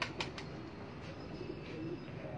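A pigeon coos softly, with low, faint murmurs toward the end, after a few light clicks at the start and against steady background noise.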